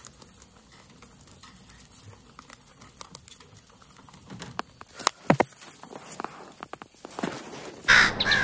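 Several crows caw in short, scattered bursts amid rustling and light tapping, the calls growing louder and closer toward the end.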